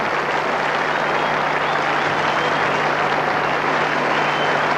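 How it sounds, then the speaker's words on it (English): Standing ovation from the cricket crowd at Eden Park, Auckland, as a batsman leaves the field after an innings of 128, a steady, continuous wash of clapping with a faint hum beneath it. "he's getting a great ovation from this Eden Park crowd, a standing ovation as he leaves the arena"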